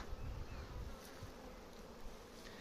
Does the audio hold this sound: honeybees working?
yes